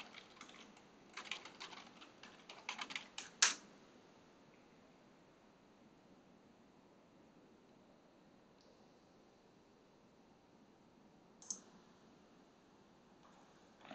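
Quick bursts of computer keyboard typing as an email address is entered, clustered in the first few seconds, followed by a long quiet stretch broken by a single later click; close and fairly soft, with no talking.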